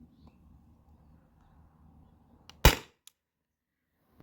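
A CO2 pepperball launcher fires Alien Play riot balls: one sharp, loud pop rings out alone after a quiet stretch, followed by a faint small click.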